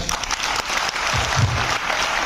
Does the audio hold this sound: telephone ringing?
no